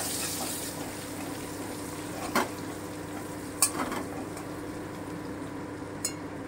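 Butter melting into a little leftover oil in a frying pan while cooking butter chicken gives a steady, fairly close sizzle, broken by a few sharp clinks around the middle and near the end.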